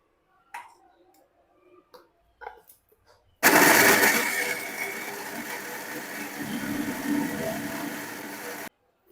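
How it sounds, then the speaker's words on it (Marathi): After a few soft clicks and taps, a mixer grinder blending tomatoes whirs loudly for about five seconds, its motor roaring steadily before cutting off abruptly. "आता आपण त्याला मिक्सरमधून काढून घेऊया"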